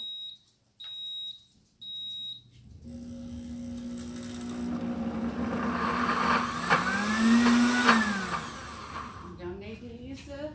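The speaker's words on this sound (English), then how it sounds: "we're going to turn this on grind" A kitchen appliance on its grind setting gives three short electronic beeps, then its motor whirs up into a loud, steady grinding whine that swells and fades toward the end.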